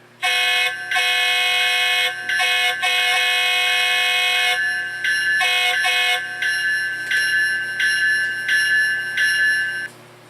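A ScaleTrains HO scale ET44 GE demonstrator model locomotive with Loksound plays its rear two-chime horn in loud repeated blasts, first long sustained tones, then a rapid series of short toots, with no talking.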